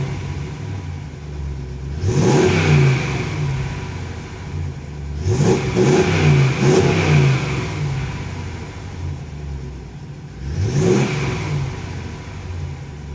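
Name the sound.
2014 Ram 5.7 Hemi revving with Thrush Hush muffler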